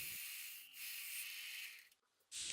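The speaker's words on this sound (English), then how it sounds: "Sanding everything is the best part of woodworking." A steady, close scratchy rubbing of sandpaper on wood pieces for a Japanese-style piano table, with brief pauses in the strokes and a short drop to near silence.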